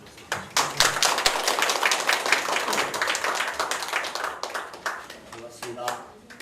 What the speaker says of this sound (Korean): 큰 박수로 환영해